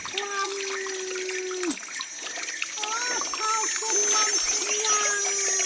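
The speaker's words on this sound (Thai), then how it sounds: "ตักน้ำต้มกาแฟติ" Water being scooped and poured to boil coffee outdoors in a Lao forest setting, with trickling and splashing that comes and goes, a sharp knock partway through, and bird calls and background sounds around it.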